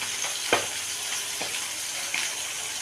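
Fish fries in a pan with a steady, even sizzle and a few sharp crackles and spatters, close and fairly quiet, with no voices.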